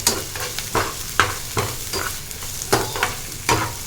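Crushed ginger and garlic fry in a pan for masala pasta, with a steady sizzle under about eight distinct, rhythmic stirring strokes of a spatula, loud and close.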